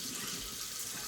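Warm water runs from a kitchen tap in a steady, even hiss while flour tortilla dough is being mixed, close and continuous for about a second, with no voices.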